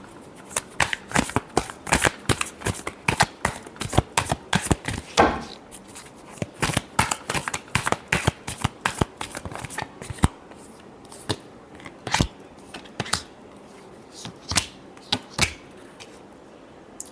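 Tarot cards being shuffled by hand up close, a long run of rapid riffling clicks in uneven bursts with brief pauses, fairly loud and without talk.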